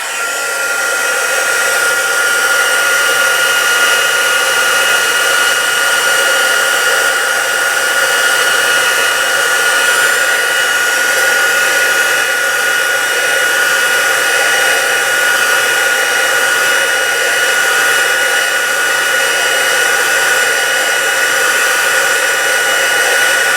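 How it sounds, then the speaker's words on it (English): An embossing heat tool blows hot air in a steady, loud, whining hiss that runs without a break from start to finish, with no voices over it. "Now I'm going to have to turn on my heat tool."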